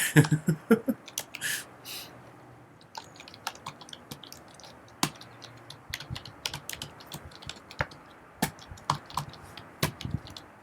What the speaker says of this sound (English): my keyboard is so old, it's like a typewriter